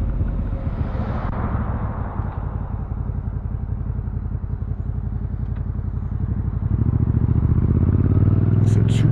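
A 2025 Suzuki SV 650 motorcycle engine thrums loud and close, a steady pulsing drone that rises in intensity near the end.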